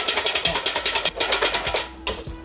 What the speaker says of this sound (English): The egg whites go into a bowl, and just lightly whisk it.